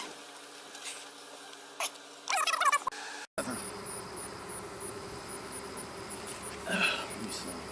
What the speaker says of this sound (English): there's a bee with pollen on its legs